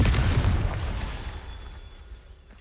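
Confringo fire spell blast in Hogwarts Legacy, a loud booming explosion right at the start that rumbles and decays away over a couple of seconds.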